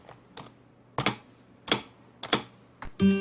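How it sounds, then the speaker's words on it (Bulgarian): Individual keystrokes on a new backlit keyboard with Cyrillic legends, about seven sharp clicks spaced irregularly and heard close and alone, ending in a brief brighter mechanical rattle. "Това се нарича клавиатура."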